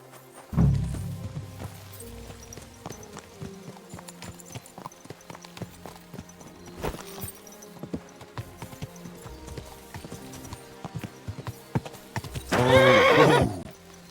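Horse hooves clip-clop along in the medieval game Kingdom Come: Deliverance II, with a loud whinny near the start and another burst of neighing near the end over a soft steady ambience.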